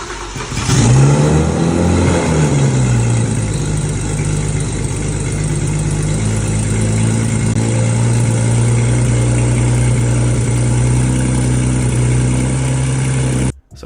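A homemade big-turbo BMW N54 engine cranks and fires up, then runs loudly and close with a steady, rough idle and rising whine before cutting off abruptly.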